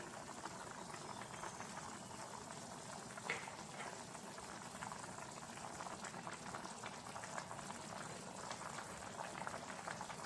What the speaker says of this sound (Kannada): ಇದು ಚೆನ್ನಾಗಿ ಕುದಿಲಿ.